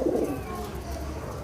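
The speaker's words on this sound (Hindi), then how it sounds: "ये पेवर कबूतर है। प्योर कबूतर है झिलमिल का।" A pure Jhilmil pigeon, an old bird with feathered feet, gives a brief low coo at the start, then a soft murmuring hum continues close by.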